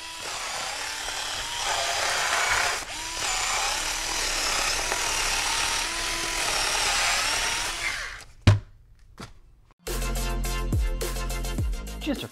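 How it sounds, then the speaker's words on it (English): Warrior cordless power cutter slicing through material with a steady, dense cutting whir for about eight seconds, then a pause, a short knock and a brief burst of choppy cutting at the end. "Today we're going to test out the Warrior Cordless Power Cutter."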